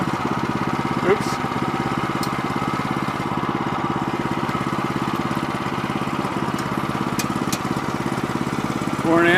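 A sawmill blade running through a log to cut a 3/4 inch board, a loud steady engine drone with a dense rhythmic pulsing that holds throughout, with a few brief higher clicks on top.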